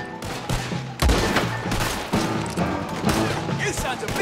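Sniper rifle and other gunfire in the Western game Red Dead Redemption 2 crack and boom repeatedly amid a chaotic shootout, loud and close, with people talking and shouting over the shots.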